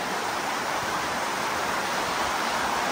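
Fast-flowing water rushes steadily on a mountain path near a cave temple in Jammu, a dense, even hiss that stays at the same level throughout with no pauses and no talking.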